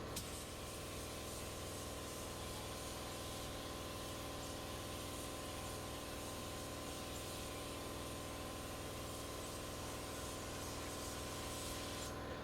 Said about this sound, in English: And that gets sprayed directly onto the surface.